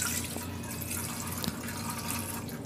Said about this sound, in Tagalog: Tunawin lang at ilagay ko na rin yung evaporated milk.